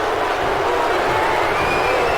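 A loud, continuous arena crowd roars and cheers in the wrestling video game WWE 2K19 at a Colorado City show, a dense wall of noise with a faint tonal whine running through it.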